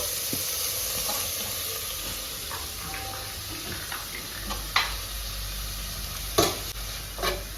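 Onions sautéing in a pan for a fenugreek leaf kootu, a soft, steady sizzle broken by a few sharper scrapes and clacks of stirring, with no voices.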